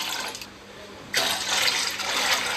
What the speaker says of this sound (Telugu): నేను నాలుగు గిన్నెలు నీళ్లు పోసాను ముందు